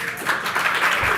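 A crowd claps at the Google Analytics Summit 2013 keynote in a brief, loud burst of dense applause filling a large hall.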